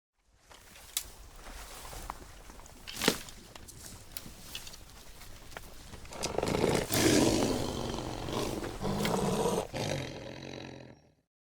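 A wild lion roars during a fight between rival predators, deep rumbling bellows swelling loudly in the second half, with sharp impacts and rustling around it.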